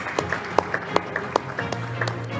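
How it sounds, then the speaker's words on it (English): Scattered applause from an audience at a data governance conference awards moment, heard as a thin patter of separate claps at a moderate distance. "Ladies and gentlemen, a big round of applause."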